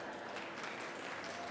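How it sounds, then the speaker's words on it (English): Steady applause from an audience at a long track speed skating championship fills a large space, a dense wash of clapping throughout with no pauses. "A round of applause for everyone helped out."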